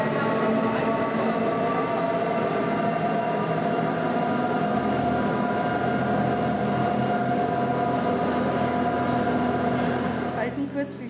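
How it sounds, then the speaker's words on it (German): Zugspitze cable car cabin running up the mountain on a summer day, a steady loud mechanical rumble and hum with sustained tonal whine that continues without pause, a brief shift near the end. "diese Kabine bleibt immer auf dieser Seite, fährt nur hoch und runter auf diese Seite."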